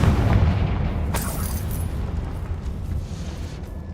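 Confringo fire spell explosion in the video game Hogwarts Legacy, a loud, deep, rumbling boom with a sharp crackle shortly after it, then a slowly fading roar.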